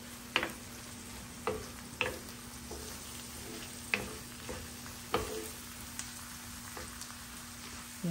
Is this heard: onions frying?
yes